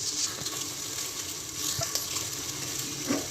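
Half a cup of oil heats in a pressure cooker, giving a steady close-up sizzle with small crackles and pops throughout.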